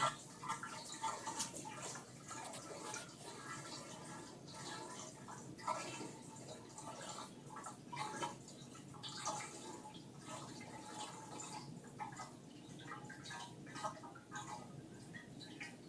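Soda poured into a gallon container, a continuous fizzing, splashing liquid pour with bubbly crackle and small drips, steady and close throughout, with no talking.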